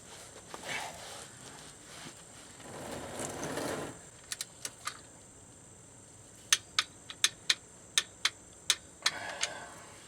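A torque wrench tightens a bolt fitted with a crush washer to about 31 foot-pounds. Rustling handling gives way to a rapid series of sharp, evenly spaced ratchet clicks, close by and crisp, with no talking.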